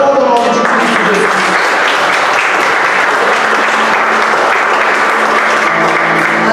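A church congregation claps in steady, dense applause throughout, loud and close, with an indistinct voice briefly heard at the start.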